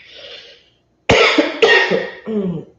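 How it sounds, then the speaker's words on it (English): Several harsh coughs burst out close and loud in quick succession, a cluster of two followed by a shorter third, after a faint breathy sound and a brief pause. "Excuse me for the coughing."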